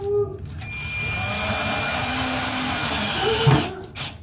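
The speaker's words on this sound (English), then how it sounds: "you'll use drywall screw, which we talked about in the screw identification video" A power driver runs a drywall screw into drywall with a steady, loud mechanical whir that holds for about three seconds, then tapers off with a brief knock near the end.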